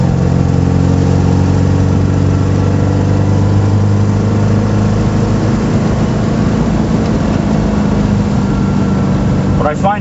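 A 1974 MG Midget engine runs loud and close for about ten seconds, a steady throttle-up drone with a rough, busy character, and a voice speaks briefly near the end.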